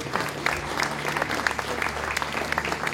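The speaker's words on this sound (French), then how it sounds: "Sous vos applaudissements, mesdames et messieurs." Audience applause at a fashion show, a lively burst of clapping from a moderate crowd, close and continuous with scattered sharper claps throughout.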